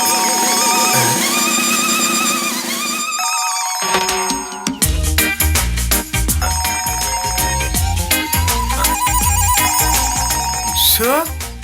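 A mobile phone ringtone plays loudly and continuously, a bright electronic melody that carries on with layered tones for several seconds.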